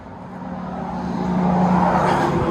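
A turbocharged Ford Mustang EcoBoost with a Magnaflow Magnapack in the Y-pipe and the rear mufflers deleted builds up a rising, loud exhaust drone over a couple of seconds, with no talking.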